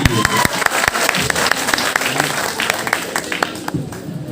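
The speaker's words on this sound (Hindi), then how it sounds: "तो एक बार जो है जोरदार तालियां हो जाए" A burst of loud applause, many hands clapping rapidly and unevenly close by, with a few voices mixed into the crowd noise.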